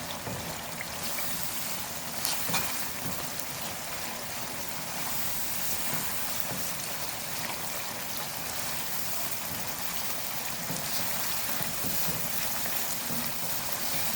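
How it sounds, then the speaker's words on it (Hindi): Beef karahi with green chillies and long-cut ginger frying hard over a high flame in a wok, giving a steady, dense sizzle and crackle that runs on without a break and stays close and fairly loud. "हाई फ्लेम पर हम कढ़ाई को भून रहे हैं।"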